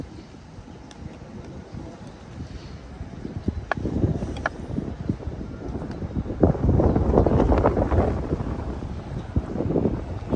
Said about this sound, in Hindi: खासी तेज हवा चल रही है